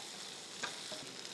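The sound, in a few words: whole spices sizzling in hot oil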